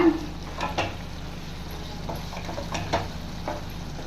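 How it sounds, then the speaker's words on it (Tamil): Masala being stirred into mutton frying in a pan, with a steady sizzle under intermittent scraping strokes of the spoon, close up and without speech. "மசாலா போட்டு மிக்ஸ் பண்ணிடலாங்க."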